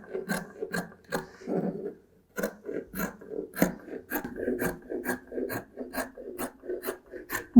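Scissors cut fabric straps for a child's unisex jumpsuit in a quiet room, making a series of short, close rasping snips with brief pauses between strokes.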